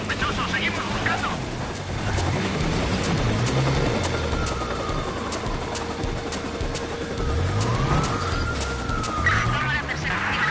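Police car siren wailing in the Watch Dogs 2 video game during a pursuit, its rising and falling tones sweeping continuously over a dense rumble of engine and traffic noise, loud and steady throughout.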